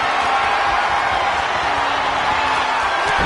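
A dense, roaring arena crowd from the wrestling video game WWE 2K25 cheers loudly and continuously, a wash of massed voices with no single speaker standing out.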